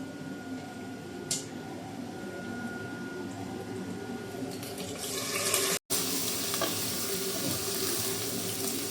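Beef pieces frying and being stirred in a pan for a braised stew, giving a dense, continuous sizzle up close that swells around the middle before a brief cut-out and then carries on.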